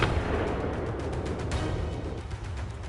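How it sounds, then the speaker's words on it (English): Rifle gunshot fired at a charging wild boar in the Pindus Mountains, a loud sharp report with dense broadband energy filling the clip, no speech. "A precise, decisive shot."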